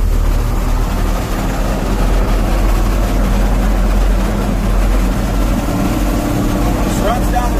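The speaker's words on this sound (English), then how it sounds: "Good running tractor, sounds good, a lot of power, shifts nice." A 1973 John Deere 4430 tractor runs steadily in road gear, a loud, continuous low engine drone with no breaks throughout.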